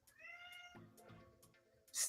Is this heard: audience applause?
no